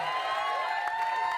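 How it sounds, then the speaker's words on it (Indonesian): A studio audience applauding and cheering for a contestant named Nadine on a music quiz show, a dense continuous burst of clapping and crowd noise that runs through the whole moment. "Tepuk tangan dulu buat Nadine."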